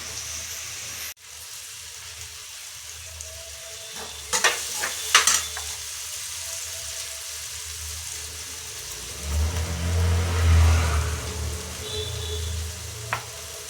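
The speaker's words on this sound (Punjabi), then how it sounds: "ਆਪਾਂ ਲਾਈਏ ਤੜਕਾ ਮੈਂ ਆਲੂ ਚੀਰ ਲਾਂ" Spices tempering and potatoes frying in a pan for a Punjabi mixed vegetable curry of peas, potatoes and carrots, a steady sizzle with stirring clatter around the middle and a louder low rumble of frying near the end.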